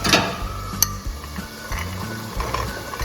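Potatoes and rajma tip into a pan of oily, sizzling tomato masala, with a steady close frying hiss, a sharp utensil clink and scraping stirs against the pan.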